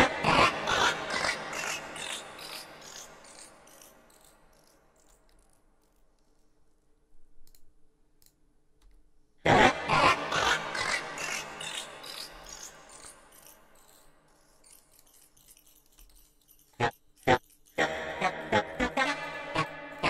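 Cubase multitap delay with only taps 3 and 8 active, sharp clicky percussive hits trailing off into spaced repeating echoes, loud bursts decaying to quiet between phrases.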